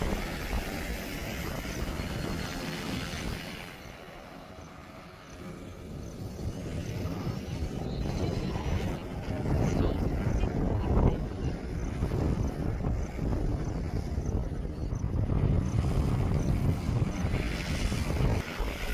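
An Agrown-10X agricultural drone flies and sprays crops with its motors at 50% speed, giving a steady, loud broadband whir with wind-like rumble that holds throughout and swells slightly partway through.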